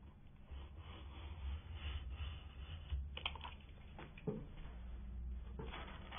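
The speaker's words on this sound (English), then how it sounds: "Here I'm using a knife and a straight edge, but you could use scissors." A knife drawn along a straight edge slices through wallpaper at the top of a wall, giving a soft, faint scraping rasp with a few sharper clicks, heard alone at close range.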